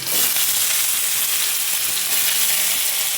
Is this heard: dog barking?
no